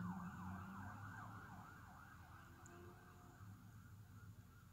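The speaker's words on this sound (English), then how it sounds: "That cop car is going extremely slow" A police car siren, wailing steadily as it creeps slowly past through an intersection, mid-distance and fairly loud over low road rumble and traffic noise, with no talk.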